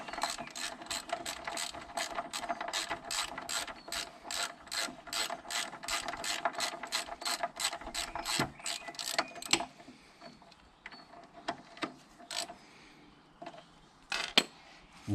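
Rapid ratchet clicking while snugging up the bolts on Brembo Monoblock calipers fitted to a 2009 Kawasaki ZX10R, heard as a steady close run of crisp ratcheting strokes that thins into a few scattered clicks near the end.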